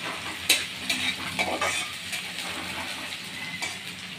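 Chopped onion and garlic fry in a pan, giving a soft hiss with several distinct stirring scrapes and clinks, close but fairly quiet, with no talking.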